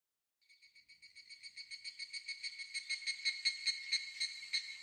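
Cicadas in an anime scene set a rapid, pulsing shrill chirp that fades in from silence and swells steadily louder, with about twenty even beats, heard alone without talk.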